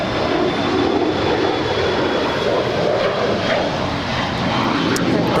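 A jet airliner roars continuously on a runway at LAX, a loud broadband engine rush that holds steady throughout with no break.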